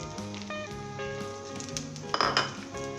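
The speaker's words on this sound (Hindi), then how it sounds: "हमने इसे 1 मिनट के लिए फ्राई करना है अदरक को।" Chopped ginger frying in hot oil in a pan, with green chillies going in; a soft steady sizzle with faint clinks and a brief louder clatter of utensils, quiet and close, no talking.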